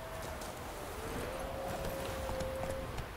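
Hooves clip-clop steadily as a horse trots up after being called in The Witcher 3 video game; the footfalls are moderately near and soft, with a faint tonal whine running underneath.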